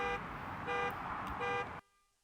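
Steady harmonic car alarm tone in a cartoon, loud and continuous with slight pulsing, cutting off abruptly near the end.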